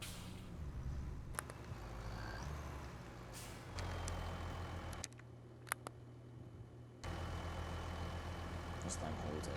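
A truck drives across a field in Farming Simulator 25 with a steady low engine drone, broken by sharp air-brake hisses and clicks and shifts in engine level, while people talk faintly in the background.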